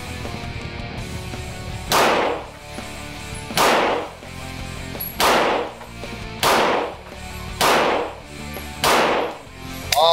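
A Beretta 92 Elite pistol fired in double action at a range, six loud, sharp shots spaced about one and a half seconds apart, each cracking close and trailing off in a brief echo.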